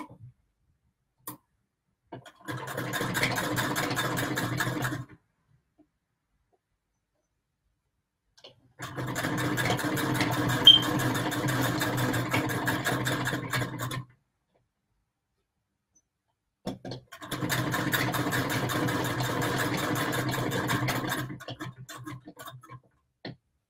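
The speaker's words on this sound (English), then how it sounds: "mainly just sewing" A sewing machine stitching patchwork runs in three long, steady bursts of fast rhythmic whirring and ticking, each several seconds long and separated by quiet pauses, close and clear with no talking.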